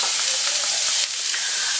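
Vegetables for a spicy beetroot and potato salad steam and sizzle in a hot pan, a loud, steady broadband hiss with faint crackles that dips slightly partway through, heard alone.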